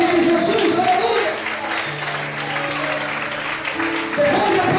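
A church congregation claps during an evening worship service, with a broad wash of applause and crowd noise, while a sustained tone, probably from a keyboard, hums beneath it throughout.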